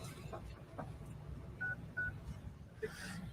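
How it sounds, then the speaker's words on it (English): A phone number is dialed: a few short, faint keypad beeps spaced apart over a quiet, murky background hum, with no talking. "Let's give Mr. Wallace a call"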